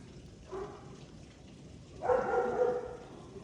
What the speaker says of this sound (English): Sorry, I can hear my dog.